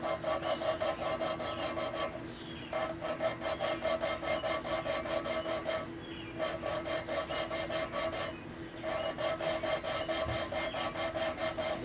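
A valve is lapped by hand against its seat in a Chrysler 4.7 cylinder head, making a steady rhythmic gritty scraping and rubbing. It runs back and forth close up, with two brief pauses.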